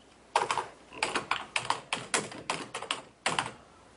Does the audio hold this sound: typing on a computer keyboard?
yes